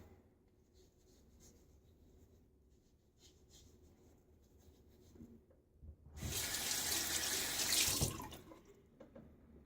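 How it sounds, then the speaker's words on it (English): After quiet handling noises, a tap gushes water loudly for about two seconds, then shuts off. "Let's add a little bit more water."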